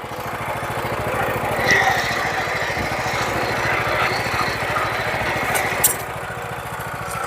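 A power tiller engine runs nearby at a steady, fairly slow speed, a continuous rapid chugging thrum that holds level throughout with a brief faint clatter near the end.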